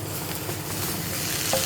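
Sliced tomatoes for a spicy egg roast sizzle in a hot pan while being stirred, a loud, dense, steady frying hiss that carries through the brief moment with no voices.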